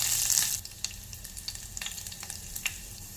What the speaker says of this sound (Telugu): మ్యాక్సిమం వేగిపోయే పోపులో ఇప్పుడు కరివేపాకు వేసుకోవాలి